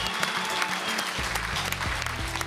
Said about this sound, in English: Gets a nice ovation from the crowd, even from the players.